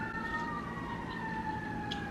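A distant siren wails steadily in New York City, its pitch sliding slowly downward over a constant low rumble of city traffic.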